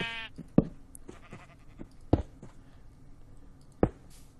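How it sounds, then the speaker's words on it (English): A sheep in Minecraft gives a short bleat at the very start, followed by sharp blocky knocks and clicks spaced across the scene, fairly quiet overall. "sheep, get out of my way"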